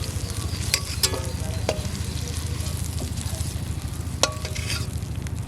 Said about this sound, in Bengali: চিংড়িটা ভালো করে ভেজে নিছি